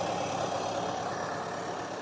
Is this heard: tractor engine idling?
yes